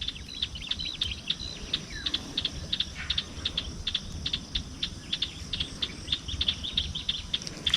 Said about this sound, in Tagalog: Yan pa rin yung ibon.